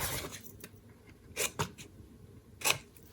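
Scissors angle-cutting small paper tabs for a Halloween craft project, giving three or four short crisp snips spaced apart against a quiet room, close and fairly soft.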